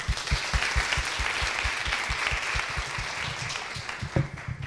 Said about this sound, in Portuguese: vocês merecem muitas palmas